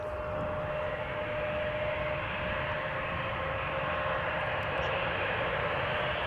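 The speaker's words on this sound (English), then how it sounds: "There's a KLM City Hopper lined up already" A KLM City Hopper aircraft lined up at Amsterdam Schiphol Airport gives off a steady, even engine roar with a faint tonal whine, constant throughout with no voices.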